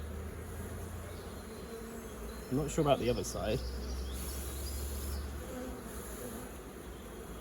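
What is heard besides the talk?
honeybees buzzing around hive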